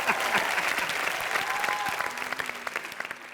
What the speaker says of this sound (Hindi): जोरदार ताली हो जाए मेरे जैसे चालाक एक्टर के लिए